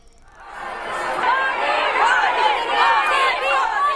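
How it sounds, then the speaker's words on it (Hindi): A large crowd at Prime Minister Modi's road show in Delhi, along Sansad Marg, fills the air with a loud, dense wash of cheering and chatter that swells and holds steady. "इस दौरान लोगों की भारी भीड़ उमड़ी।"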